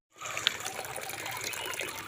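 Tap water runs in a steady, close gush while pieces of rohu fish are washed, a continuous splashing stream that starts abruptly and carries on without voices.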